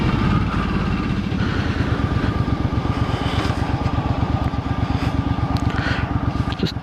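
A 2007 Suzuki M50 cruiser motorcycle being ridden: a loud, steady engine with a fast, even pulsing thump, wind noise over it throughout.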